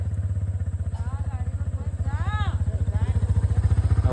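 A motorcycle engine putters rhythmically and steadily at close range, with a voice briefly heard over the running engine.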